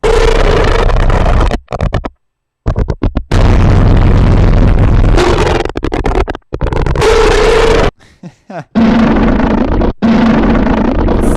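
Heavy distorted glitch bass made in the Harmor synth growls and bursts in choppy chunks, cutting abruptly to silence between loud gritty, glitchy blasts.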